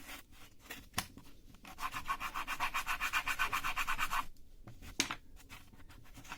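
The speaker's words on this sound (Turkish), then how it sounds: "biraz buna zımpara yapmamız gerekiyor şuralarını" Rhythmic back-and-forth rasping of sandpaper on wood, a quick steady scrubbing burst in the middle with a few scattered knocks around it.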